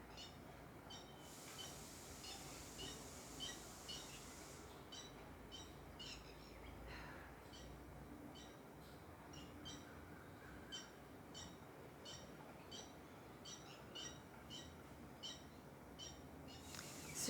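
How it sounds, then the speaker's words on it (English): Birds sing outdoors in a steady stream of repeated high chirps and short calls, moderately near, over a constant low background hum, with no talking. "If you can hear, the mic is picking up just beautiful birds outside"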